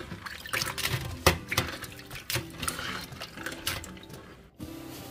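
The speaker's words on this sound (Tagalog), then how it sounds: "patuluin lang natin muna sa strainer bago natin siya igisa" Soaked frozen crabs drain in a strainer, water trickling and dripping with intermittent clattering bursts and knocks over a few seconds, close and moderately quiet, no voices.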